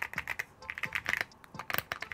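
Fast typing on a Keychron Q6 Max mechanical keyboard with Gateron Jupiter Banana switches, a close, soft run of quick clacky keystrokes with uneven rhythm.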